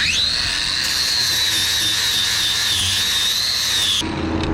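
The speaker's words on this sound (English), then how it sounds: "we're gonna grind it up and touch it up" A grinder works steadily on glue stuck to a fiberglass swimming pool fitting, a loud, continuous high-pitched whine with slight pitch wavering that cuts off near the end.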